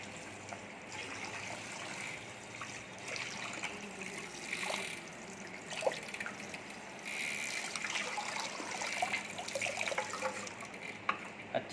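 Water from a salon shampoo basin sprayer runs steadily over a client's hair, a continuous close hiss and trickle with small splashy changes as the hair is wet before shampooing.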